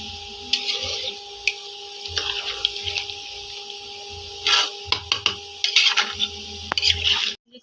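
Water poured into a pot of thin red chicken curry with boiled potatoes, heard as intermittent splashing, trickling and wet squishing bursts over a steady low hum.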